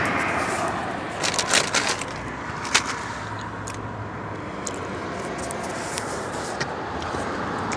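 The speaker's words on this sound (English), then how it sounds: "Just watching the cars go by." Cars passing along a busy urban street, Livingston Avenue, as a steady wash of traffic noise with a few louder swells of passing vehicles and brief knocks, heard from the roadside.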